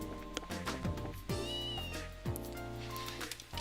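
A cat meows repeatedly in the video game Trails in the Sky, several short rising cries over a steady game music loop, close and clear.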